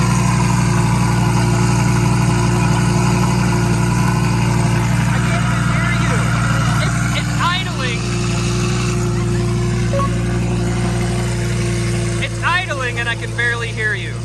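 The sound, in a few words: De Tomaso Pantera car engine idling with Takahashi muffler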